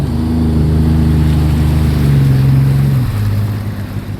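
A Sea-Doo RXT personal watercraft engine being broken in runs steadily with a deep droning hum and a slight pitch shift near the end, loud and close, with water and wind noise around it.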